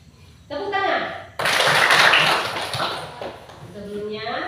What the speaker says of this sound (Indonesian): Konsentrasi. Tepuk tangan.